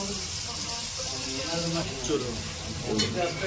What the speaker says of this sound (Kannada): ಈಗ ಟೊಮೆಟೊ ಹಣ್ಣು ಹಾಕೊಳ್ತಾ ಇದ್ದೇನೆ ವಿನೋದ್ ಸ್ಮ್ಯಾಶ್ ಮಾಡಿರೋ ಟೊಮೆಟೊ ಹಣ್ಣು